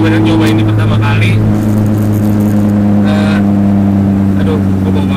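A car's VTEC engine is held at high revs, a loud, steady droning roar close by with shifting harmonics, while voices speak over it.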